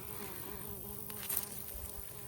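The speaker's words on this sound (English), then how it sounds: "There's little honeybees in here." Honeybees buzzing around zinnia flowers outdoors, a faint steady hum with one insect passing close for a moment before the sound settles back.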